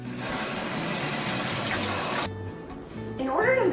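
Hands washed with soap under warm running tap water in a kitchen, a steady close splash and trickle that cuts off abruptly partway through, followed by a brief voice.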